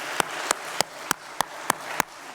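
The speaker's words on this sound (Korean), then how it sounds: "우리 살아계신 하나님께 영광의 박수 올려드리겠습니다." A church congregation at a Wednesday service claps together in steady unison, seven sharp evenly spaced claps ringing out clearly with no talking over them.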